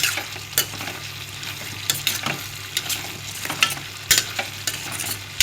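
Mutton fried with ghee in a pan, a low sizzle under repeated scraping stirs and clinks of a spoon against the pan, with no talk.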